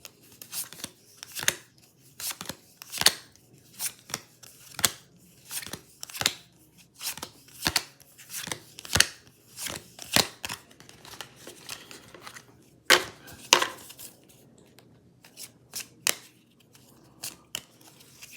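A deck of cards being handled and shuffled for a board game session, a steady series of close sharp riffles, snaps and flicks at irregular intervals, fairly loud and with no talking.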